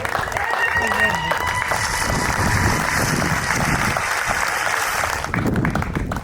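An audience at an Irrecha community celebration in Edmonton gives a warm, sustained round of applause, loud and continuous with crowd noise mixed in, and a voice speaks over it near the end.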